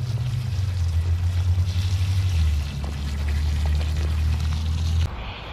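Water pours from a container onto young tomato seedlings in a shaded garden, a steady, fairly loud, close stream lasting about five seconds before it stops.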